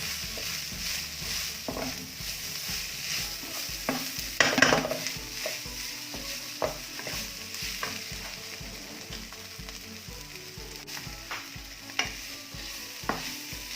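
Vegetables for pancit sizzle in a pan while being stirred, a steady frying crackle broken by repeated scraping strokes of the spatula, close and fairly loud, with no talking.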